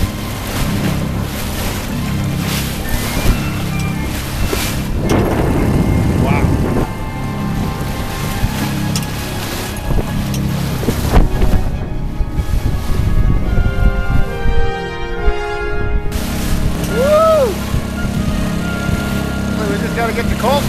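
Whitecapped waves on the Hudson River wash and splash against a sailboat under way in wind, loud and continuous, with gusty rushing throughout and a brief squeaky tone near the end.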